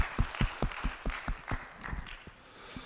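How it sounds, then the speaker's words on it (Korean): A church congregation gives a short round of thankful applause after a prayer, with sharp, fairly distinct claps in a loose rhythm that thin out and fade within three seconds, heard at a moderate distance. "우리 받으신 주님께 감사의 박수."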